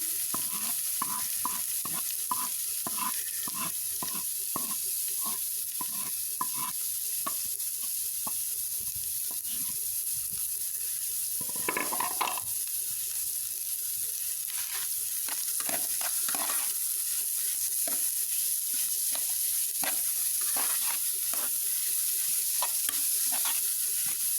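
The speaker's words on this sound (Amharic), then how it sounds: "ሁሉንም አንድ ላይ አቀላቅለን መጥበሻችንን ዘይት ጨምረን ካጋልን በኋላ እንጠብሰዋለን ማለት ነው።" A carrot mixture fries in oil in a pan with a soft, steady sizzle, broken by rhythmic scraping and tapping of a utensil stirring against the pan, with a brief louder clatter midway; no one speaks.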